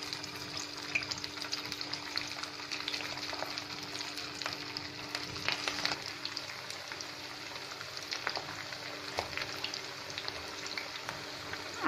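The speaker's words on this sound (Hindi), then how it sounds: "ऑयल गर्म हो गया है और अब हम फ्राई करने के लिए कबाब को डाल देते हैं।" Mutton chapli kababs fry in hot oil, a steady soft sizzle with small crackles and pops running throughout, quiet and close with no talking.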